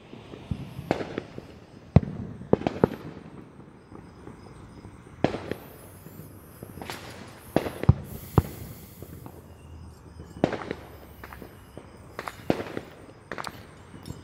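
Fourth of July fireworks go off across a town in a scattered series of sharp cracks and pops, some near and some distant, with faint whistles between the bangs.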